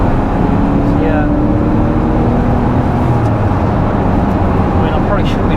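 A Porsche Boxster drives along with a loud, constant engine and road drone heard from inside, its note uneven with a slight stutter around 3,000 rpm, and traffic noise mixed in.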